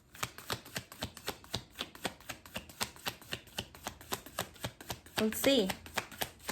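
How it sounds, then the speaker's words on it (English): Rapid, regular tarot card shuffling clicks in a quick rhythm, close by, with a brief spoken voice near the end. "Not shuffling very good today."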